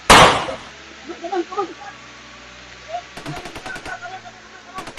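Gunshots: one loud, close blast opens the sequence, then rapid cracking bursts follow, with voices calling out between the shots.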